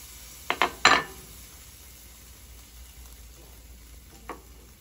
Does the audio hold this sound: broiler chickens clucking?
no